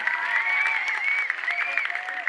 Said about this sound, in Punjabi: ਤਾੜੀ ਮਾਰ ਕੇ ਦੱਸੋ ਕਿਵੇਂ ਲੱਗਾ ਮੇਰਾ